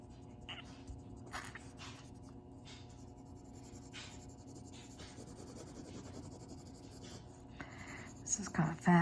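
A light pencil scratches and scrapes across paper in quick, continuous strokes, soft and close with faint room noise and small bumps near the end.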